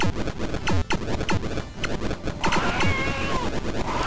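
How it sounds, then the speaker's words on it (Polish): A short cat meow rises out of busy retro arcade game music (Joust) and rhythmic hoofbeat-like clatter, faint and brief near the end. "O, kot jakiś, słyszycie?"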